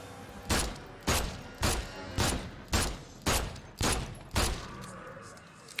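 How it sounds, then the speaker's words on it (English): Eight evenly spaced pistol shots fired one after another in The Sinking City, each a sharp broadband crack with a short tail, at a steady rhythm of about two per second and at moderate loudness. "I'll kill you from the distance with my"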